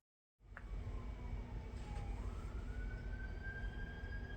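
An emergency vehicle siren, from an ambulance or fire truck, wails faintly in the distance with a slowly falling then rising pitch over a low rumbling background. No one talks.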